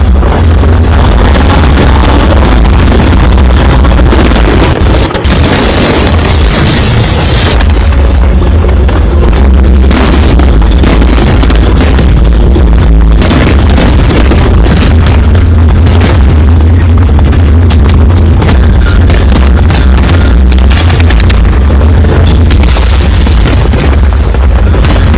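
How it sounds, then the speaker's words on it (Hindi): Fireworks burst over Ayodhya during the Deepotsav festival, a dense, loud barrage of booms and crackles that runs without a break over a heavy rumble. "देखिए जरा अयोध्या में आतिशबाजी, और ऐसी आतिशबाजी जो इससे पहले नहीं देखी"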